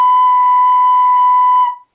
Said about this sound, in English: So if you play B correctly,